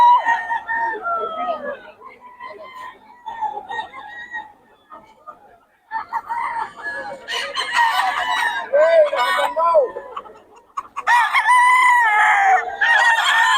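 Roosters and chickens at a poultry market in Bocaue crow and cluck repeatedly, some calls close and loud, others farther off, with a few overlapping bursts of crowing and background chatter from people nearby.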